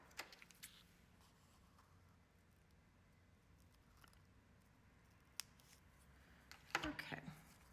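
Scissors cut paper hearts from a Valentine art card kit: a few faint, sharp snips spread across a quiet room, with a cluster of crisp cuts near the end.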